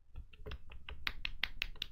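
Hand clapping in applause for the modders at the online BetterThanMinecon 2015 event, heard over push-to-talk voice chat: about ten quick, steady, fairly quiet claps with no voices.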